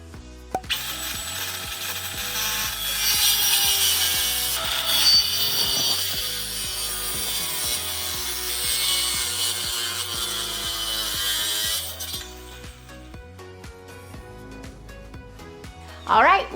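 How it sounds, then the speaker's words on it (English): A Ryobi cordless circular saw makes a bevel cut in wood, with a sustained loud high whine as the blade bites for about ten seconds, then spins down, with a short clatter at the end. "pop the battery on, and let's do that bevel cut"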